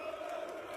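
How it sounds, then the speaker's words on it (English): Young crowd at a street protest chanting in unison, a dense roar of many raised voices with shouting, continuous and moderately distant throughout the short moment. "here's chanting from the crowd, screaming, boer, boer, boer, which is farmers"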